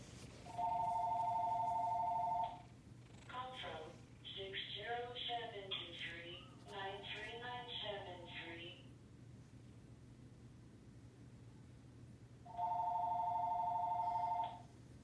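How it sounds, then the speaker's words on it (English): A telephone rings in a home with a new cat, two bursts of steady electronic ringing, one at the start and another near the end, separated by a stretch of talking in between. "Is my phone ringing?"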